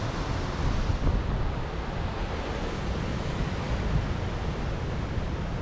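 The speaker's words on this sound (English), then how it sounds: "I loved the views and the sounds of the ocean" Ocean waves and surf near a lighthouse coast roll in a continuous broad rumble mixed with wind buffeting the microphone, steady and moderately loud without voices.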